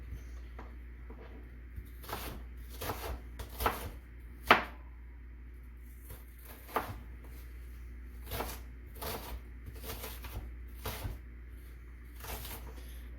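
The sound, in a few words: chopping an onion for nachos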